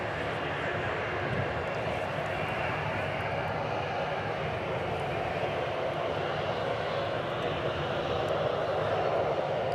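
A United airplane at DFW gets ready to take off, a steady, distant engine roar that hums on unbroken and slowly swells near the end.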